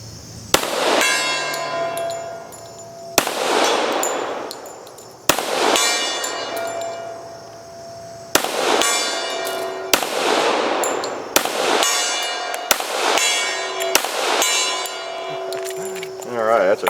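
Pistol rounds ring off a steel gong outdoors, about ten sharp metallic hits spaced a second or two apart, each leaving a long bright ringing decay, with the shots quickening toward the end.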